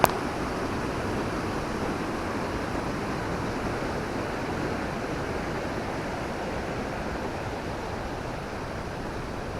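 Uma Anyar waterfall roars as a steady, dense wash of falling water, constant and loud without pause, with no voices over it.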